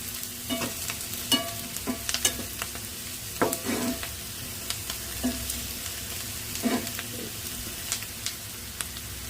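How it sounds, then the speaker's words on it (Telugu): Onions fry in a pan for an egg fry, giving a soft continuous sizzle broken by intermittent scraping stirs and small clinks, close but fairly quiet. "ఉల్లిపాయ అయితే కొంచెం వేగాలి, కాసేపు వేయించుకుందాం."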